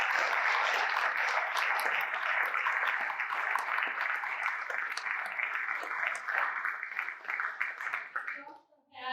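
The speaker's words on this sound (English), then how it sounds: "celebrate her recovery with me and give her a round of applause" Sustained audience applause for a recovering granddaughter at an anti-drug coalition anniversary event, a steady dense wash of clapping that runs for about eight seconds before cutting off abruptly, followed by a brief voice.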